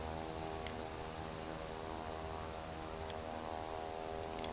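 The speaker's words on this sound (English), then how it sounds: "in the plane I hardly hear the engines at all" Twin engines of a Cessna 408 SkyCourier drone steadily in a flight simulator game, a constant dense hum with no breaks or voices.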